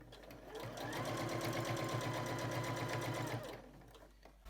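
A sewing machine with a 1/4 inch foot stitches quilt binding in one continuous run of close, steady needle chatter, ramping up, holding for about three seconds, then slowing to a stop.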